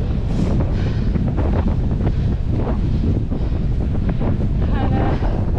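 Heavy wind buffets the microphone while cycling along a windy road, a loud continuous roaring rumble with gusty bursts throughout and no clear talk.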